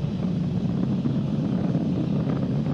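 A SpaceX Falcon 9 rocket roars during ascent, its engines throttling back up to full power past max Q, a steady dense rumble that stays loud and unbroken throughout with no voices.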